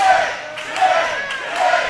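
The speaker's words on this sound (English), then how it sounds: "and now the crowd just" Wrestling arena crowd at a live independent show roaring and cheering in surges after a big move, loud and sustained with swelling peaks.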